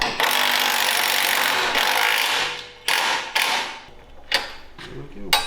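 Mechanical creaks and ratcheting clicks from tightening the swing arm on a Coleman B200R Big Block 420cc minibike, with a dense scraping stretch and then several sharp close clicks, no voices.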